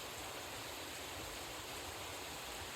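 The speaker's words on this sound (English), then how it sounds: "Is this a third waterfall?" Steady rushing water roars continuously from a waterfall on the Cascade Waterfall Trail, a broad, even hiss like falling water heard from close by, with no voices.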